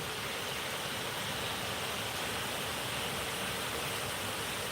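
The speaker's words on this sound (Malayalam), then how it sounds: "മഴ ഒന്ന് ചെറുതായിട്ടൊന്ന് ഒതുങ്ങിയിട്ടുണ്ട്" Light monsoon rain falling steadily, a dense even hiss of drops with no distinct events, continuous and moderately quiet.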